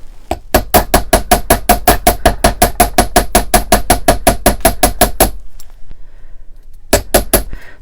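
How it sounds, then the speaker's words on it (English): Ball peen hammer striking the end of jewelry wire on a hard surface, a fast, even series of about two dozen sharp metallic taps, a pause, then a few more blows, close and loud. "I'm just going to hammer the end here."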